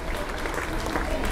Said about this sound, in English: A round of applause as well, I think, for both finalists.